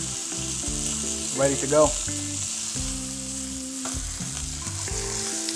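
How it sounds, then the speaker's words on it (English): A steak sizzles in a frying pan, a constant bright hiss running beneath background music, with a brief spoken phrase partway through. "Flip your steak."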